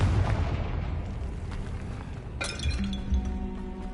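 Confringo fire spell explosion in the video game Hogwarts Legacy: a dense blasting rumble with clinking debris, then a sharp bright crack followed by ringing shimmering tones over continuous game noise.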